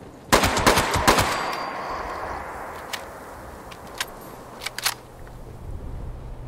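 A loud weapon in Fallout 76 fires a rapid burst of sharp shots up close, followed by a few scattered single shots and clicks as a low ambient hum lingers.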